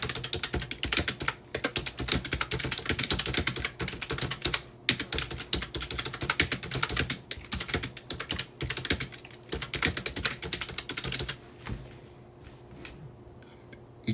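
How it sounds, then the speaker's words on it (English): Rapid, steady clatter of keys on a chunky computer keyboard, typed close up and continuously with dense irregular clicks, briefly thinning near the end, with no voices. "I can't type as quickly as you, Charles"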